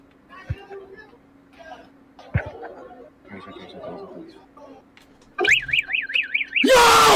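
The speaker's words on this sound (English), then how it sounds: "Did he just pull a fucking fire alarm?" A fire alarm goes off indoors, starting as a warbling siren tone and then jumping to a loud, harsh continuous blare near the end, after a stretch of quiet chatter and laughter from several people.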